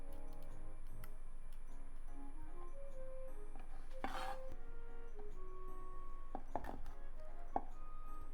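A knife trimming the tops off okra on a cutting board, with scattered light taps and clicks over a quiet background and a brief louder rustle midway.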